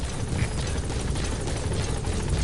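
Helicopter rotor in Metal Gear Solid 5 chopping steadily and loudly as a continuous dense thrum, with no voices over it.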